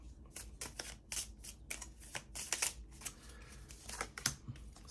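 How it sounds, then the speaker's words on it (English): A deck of cards for the Marvel Legendary deck-building board game is shuffled close by, a run of quick riffling bursts and soft slaps in uneven rhythm, with no one talking over it. "Shuffle the deck."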